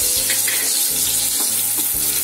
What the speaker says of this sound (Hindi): इन्हें ज्यादा फ्राई नहीं करना है, इसका क्रंचीनेस बना रहे और कच्चापन चला जाए